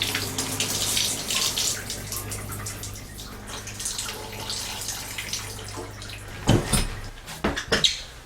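Water runs from a tap in a house under renovation with newly installed plumbing, a soft steady rush at moderate distance that surges louder near the end, with a few knocks and splashes; no speech.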